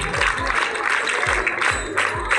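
An audience at a public gathering claps in a rhythmic, crowd-wide burst of applause, with steady hand claps and low thumps repeating at a regular pulse, moderately close.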